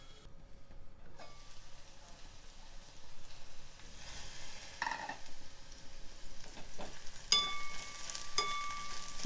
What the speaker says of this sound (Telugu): మూత పెట్టి చిక్కుడుగాయ కొంచెం వేగే వరకు మధ్య మధ్యలో కలుపుతూ